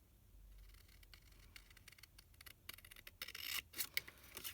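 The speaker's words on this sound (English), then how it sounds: "I'm just using my scissors because I've got long shears" Long-bladed scissors snip through card in a few rough, rasping cuts, close and fairly quiet, growing louder and choppier toward the end.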